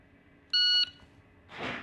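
One short, piercing shot timer start beep sounds up close, followed after a pause by a brief burst of noise.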